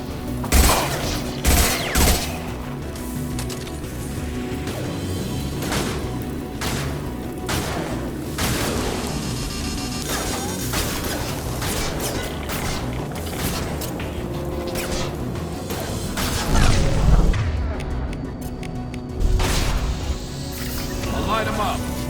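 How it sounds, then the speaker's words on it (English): Grenade explosions and bursts of gunfire in a Mass Effect 2 firefight, with dense, continuous shooting, repeated loud booms and heavy impacts throughout, alongside game voices. "Fire in the hole!"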